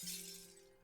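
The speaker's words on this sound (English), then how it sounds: "in the distance, just more clatters and shatters, like a light had been hit and glass sprays all over" Glass shattering as a stadium light is struck, one sharp crash with a bright spray of shards that fades out within a second, faint and distant, with a low hum underneath.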